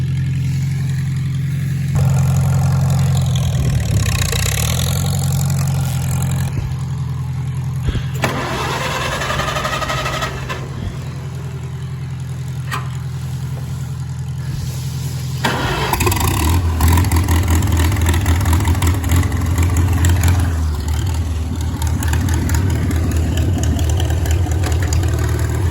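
A farm tractor being pulled out for a wedding cranks and fires up, then settles into a loud, steady low rumble of idling, with the engine note shifting and surging a little partway through.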